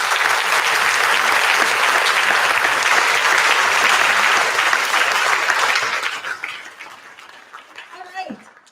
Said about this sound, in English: So, round of applause for Mr. Gray.